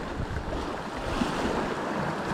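Sea waves roll and wash along the shore at a seaside fishing spot, a steady moderate surf with light wind and no voices.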